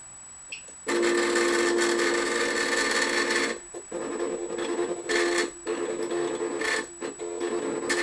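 A Cri-Kit cutting machine works on vellum, embossing with a loud, close whirring motor hum broken by brief pauses as the head changes direction, plus a faint high steady whine throughout.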